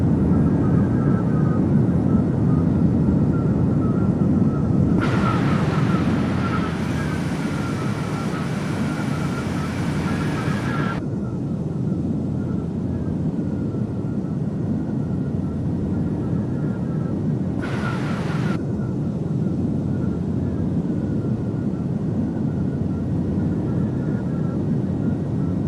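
A steady, loud engine drone from a plane in the flight simulator Firefly Air Ops, flying over Cagayan de Oro in the Philippines. The hum is continuous throughout, with no talking.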